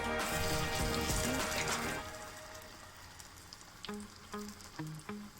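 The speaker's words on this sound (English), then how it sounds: "it has to fry in the oil in the low heat for almost 3 to 4 minutes" Chickpea falafel croquettes frying in oil over low heat, a soft sizzle that is strong at first and then fades to a quieter bubbling, with a few short tonal beeps near the end.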